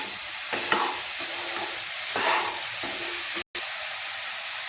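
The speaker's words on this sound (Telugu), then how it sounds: "కలుపుతూనే ఉండాలి. ఇలా కింద అడుగంటకుండా" A coconut and jaggery mixture being stirred in a pan on the stove, scraping and sizzling in repeated strokes up close, with one brief dropout in the middle.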